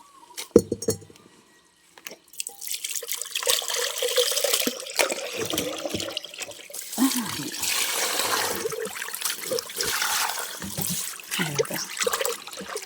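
Water runs and splashes while rinsing freshly pounded Karen bird's-eye chili, a steady close trickle with clinks of a glass or bowl and brief bursts of talk in between.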